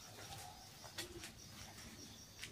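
Pigeons coo faintly inside an abandoned, broken-down house, giving soft low calls and a few chirps against quiet room noise.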